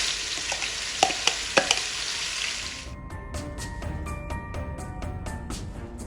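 Onions and blended ingredients frying in a pot over medium heat for spaghetti jollof, a steady close sizzle with a few sharp clinks of a stirring utensil early on, then a softer, even bubbling hiss.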